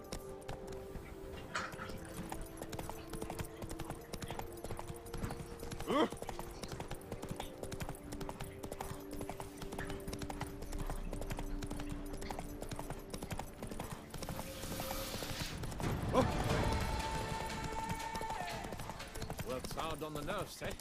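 Hoofbeats of a horse galloping in The Witcher 3 clip-clop steadily through the whole stretch under a game soundtrack and ambient noise, with a short burst of louder activity near the end.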